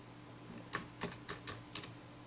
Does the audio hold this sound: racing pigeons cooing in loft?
no